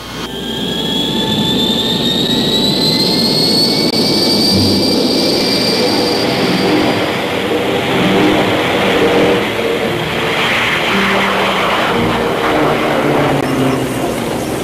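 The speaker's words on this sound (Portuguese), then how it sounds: "Frank Whittle, ao mesmo tempo trabalhou na Inglaterra por muitos anos com motores a jato antes que seu Gloster Whittle voasse pela primeira vez em 1941" A Gloster Whittle jet aircraft's engine roars in flight, a loud, continuous blasting rush with a high whine that rises in pitch and then fades into the broad roar.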